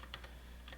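Typing on a computer keyboard, a few quick light key clicks in a short irregular burst, fairly faint and close.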